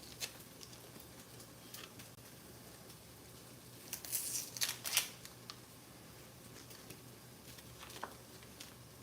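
A knife dices fresh onion small on a cutting board, with a quick cluster of crisp chopping taps in the middle and scattered lighter clicks before and after in a quiet room.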